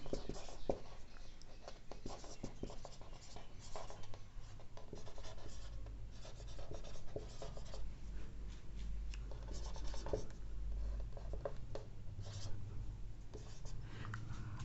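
Chalk or marker writing on a board during a Class 12 chemistry lecture on coordination compounds, heard as steady scratching and tapping strokes that run throughout, close and fairly loud.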